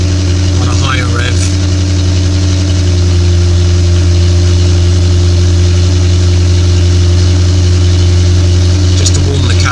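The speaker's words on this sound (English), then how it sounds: "when the engine's cold, she'll just run for about 20 seconds on a higher rev" A Jaguar F-Type R engine idles at raised cold-start revs, a loud, steady low rumble held close throughout while a person briefly talks over it.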